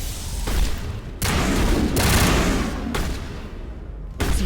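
Heavy shotgun blasts in a Mass Effect battle, several loud booming shots in quick succession, each a broad burst with a short tail, fairly close and dominant.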